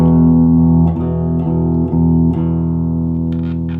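A clean electric guitar plays sustained, ringing chords with a few soft re-strums, steady and fairly loud with no talking.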